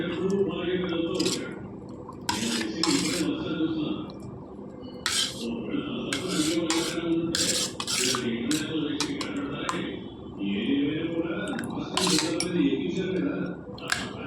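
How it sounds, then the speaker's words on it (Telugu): Buttermilk curry (majjiga pulusu) with large onion pieces is stirred in a pot, a ladle clinking and scraping against the metal in a steady repeated rhythm while someone talks over it. "అన్నీ వేసుకొని బాగా కలుపుకోవాలండి కలిసేలాగా"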